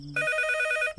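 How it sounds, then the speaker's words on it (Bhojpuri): A landline telephone rings indoors in a Bhojpuri comedy movie scene: one loud, sustained electronic ring tone that starts abruptly and cuts off at the end. "कौन पपिया है टाइम में फोन करस रे? रिंग जाता"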